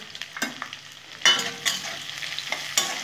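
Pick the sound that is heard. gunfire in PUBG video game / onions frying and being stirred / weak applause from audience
onions frying and being stirred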